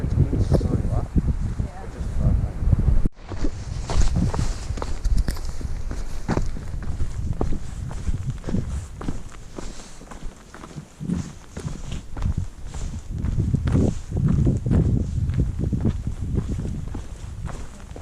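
Footsteps of hikers descending a rocky trail from McAfee Knob in Virginia on a cold, very windy morning, a steady crunching tread close to the microphone with gusty wind noise throughout.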